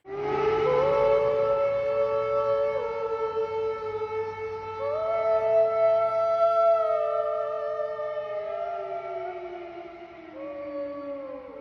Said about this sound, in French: une vidéo d'une chanteuse qui harmonise sa voix avec celle des sirènes de